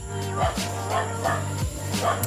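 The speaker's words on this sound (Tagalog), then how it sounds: "Ingay ng aso." A dog barks repeatedly in a steady rhythm, several sharp barks fairly close, over a constant droning hum.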